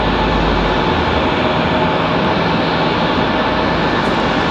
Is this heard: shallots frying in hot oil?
no